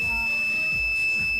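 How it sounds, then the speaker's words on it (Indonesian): A Polytron Zeromatic washing machine gives a steady, long electronic beep after its power button is pressed, one continuous high tone held through the whole moment with no voices. "tidak ada respon sama sekali, hanya bunyi bip lama, bip, bunyi bip terus"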